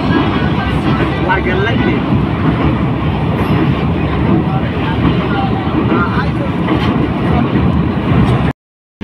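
The Amarnath Express crosses the rail bridge over the nearly dry Teesta River with a loud, steady rumbling roar of wheels and carriages heard close from on board, cutting off abruptly at the end.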